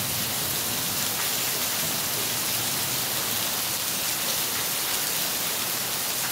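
Steady, dense rain hissing evenly throughout, with no pauses or voices.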